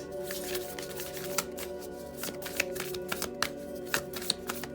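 Tarot cards are shuffled before a card is drawn, giving a steady run of close riffling flicks and taps, with a faint hum beneath.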